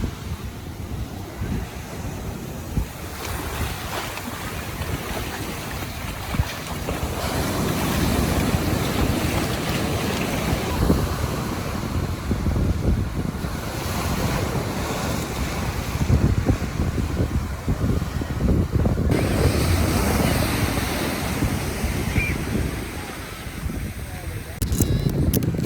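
Ocean waves at 1000 Steps Beach in Laguna break and wash ashore in a continuous rumbling surge, mixed with heavy wind buffeting against the microphone and faint voices in the background.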